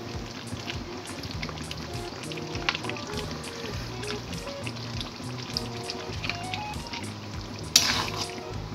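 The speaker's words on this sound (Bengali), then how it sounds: "দইটা ভালো করে মাংসের সঙ্গে কষিয়ে নেব।" Chicken fries in a pan as sour yogurt is stirred through it, a constant close crackle broken by soft repeated scraping strokes and a brighter burst near the end, with no voices.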